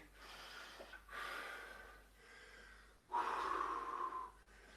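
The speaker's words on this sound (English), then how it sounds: "We're breathing." Heavy breathing after a strenuous floor workout exercise: slow, loud, close breaths, long inhales and exhales alternating in a steady rhythm with no talking.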